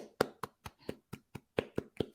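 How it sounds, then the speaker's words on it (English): A round of applause on a casual talk show, nine or so distinct, evenly spaced hand claps from a single person or very small group, close and crisp in a quiet room. "Give us a round of applause."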